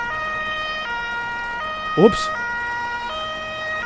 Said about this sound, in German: Und mal das Horn ausschalten, ist ja ganz schön laut hier.